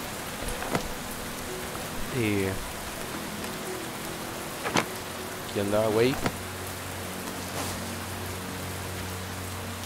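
Steady rain falls in the video game Len's Island, a continuous soft hiss of drops running the whole time, with someone speaking briefly and a couple of gliding tonal calls rising over it.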